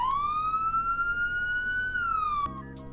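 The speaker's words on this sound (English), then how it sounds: "You've got whale," Wail siren tone on a vehicle in the Roblox game Emergency Response: Liberty County, a single loud tone that rises, holds and slowly falls, then cuts off abruptly, heard alone without talk.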